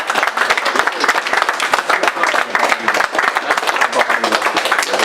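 Audience applause at a press conference, dense continuous clapping from a crowd that stays steady and fairly loud, with some voices mixed in.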